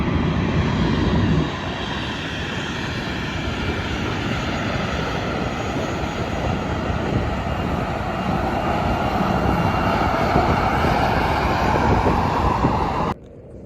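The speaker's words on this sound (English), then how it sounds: "Here comes a WestJet 737-700." A WestJet Boeing 737-700 airliner passes with a loud, steady jet roar that fills the whole stretch and then cuts off abruptly at the end.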